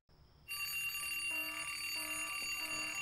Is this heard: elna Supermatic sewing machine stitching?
no